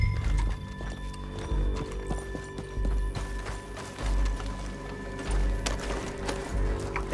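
Hooves of a horse ridden in pursuit in Red Dead Redemption 2 thud in a steady galloping clip-clop, loud and close, under low rumbling game sound with a brief whinny.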